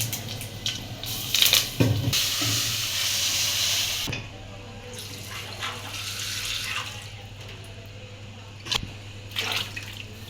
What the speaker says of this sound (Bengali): তেল গরম হয়ে গেছে এখন পাঁচ ফোড়ন দিয়ে দিবে পাঁচ ফোড়ন তেজপাতা আর শুকনো মরিচ দিয়ে দিচ্ছে